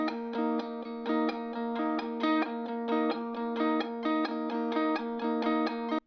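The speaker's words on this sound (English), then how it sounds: "A very simple muted pattern again" A clean electric guitar plays a simple muted picking pattern through a Guitar Rig 6 basic Chicago preset, steady even chugs in a repeating rhythm, fairly quiet and alone.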